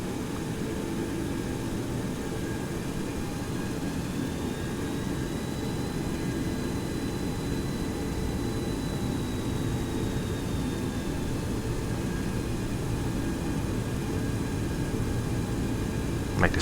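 Boeing 727-200F jet engines in X-Plane 11 spooling up for taxi to the runway: a steady, broadband engine roar with a faint rising whine, continuous and fairly close, no talk.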